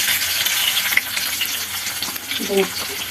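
Hot oil sizzles and crackles steadily as fish heads fry in a pan, with a few brief clatters near the end.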